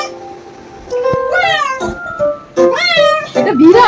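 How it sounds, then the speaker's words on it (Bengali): A cat meows repeatedly from a television, several rising and falling calls with short gaps between them. Voices talk over the meows. "এটা বিড়াল"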